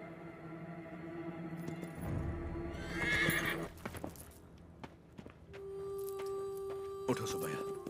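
A horse neighs loudly in a Hindi-dubbed South Indian action film, with a shrill whinny mid-clip, hoofbeats and a steady tonal music or background hum throughout.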